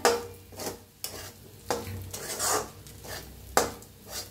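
A spoon stirs sabudana khichdi frying in a pan, with rhythmic scraping strokes about every half second over a steady, soft sizzle.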